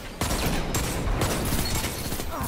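Suppressing gunfire in a Destiny Trials of Osiris match, sustained overlapping shots with a few sharper cracks standing out, at moderate level with no talk.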